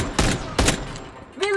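Two sharp bursts from an HS2126 burst-fire shotgun in a video game ring out close and loud, about half a second apart, followed by a rising mechanical tone.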